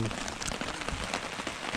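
Rain pattering steadily on a bug tent at a canoe campsite, a dense, even hiss of drops close by with no talk.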